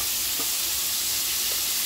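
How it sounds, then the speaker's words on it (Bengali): Fish frying in hot oil in a wok, a loud, close, continuous hiss and crackle with a couple of brief stirring knocks and no talking. "এই দেখো, আর মাছটা ভাজা হচ্ছে"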